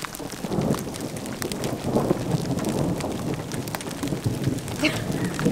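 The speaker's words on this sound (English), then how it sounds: "Some hail." A hail and rain storm pelts down outdoors at an off-grid spot, making a dense, steady patter of drops with low rumbling beneath. It stays fairly loud throughout and no one talks over it.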